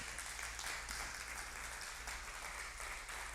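A church congregation applauds continuously, the dense clapping held at an even level throughout, fairly quiet and distant with a low hum underneath.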